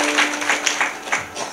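Hand claps at a kirtan: a quick run of about five crisp claps in a loose rhythm, close and fairly loud, with a voice briefly underneath.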